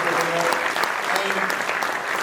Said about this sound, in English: I think all of you deserve a fantastic applause